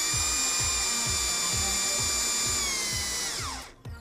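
A power drill drives a 1.5-inch Spax T-Star Plus screw, its motor whining steadily at close range with a rhythmic pulsing beneath, then winding down and stopping at the end.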